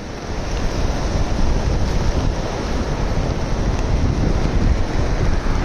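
Rough sea waves at open water, a loud, dense, continuous roar of surf mixed with wind buffeting the microphone, steady for several seconds without talk.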